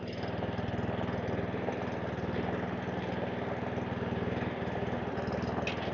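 Webb WER41SP lawn mower engine running steadily without hunting or surging: a continuous, even petrol engine drone close by, with no talk.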